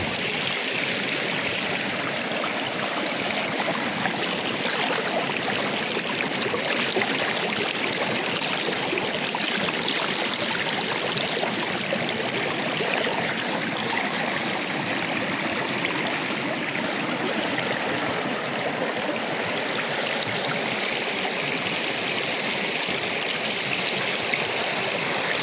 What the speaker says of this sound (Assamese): চাওকচোন সোঁত কেনেকৈ বলি আছে নদীখনৰ।